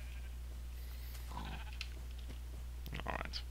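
Sheep in a video game bleating faintly several times over a steady low hum, with brief soft calls scattered through the moment.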